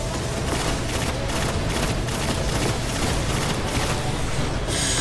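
Rapid bursts of gunfire from the video game Destiny during a solo fight against a Taken champion, shots repeating in a steady fast rhythm with no talk over them.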